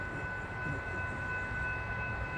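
A train approaching a level crossing rumbles low and steady at a moderate distance, with a faint constant tonal hum from the crossing signals over it.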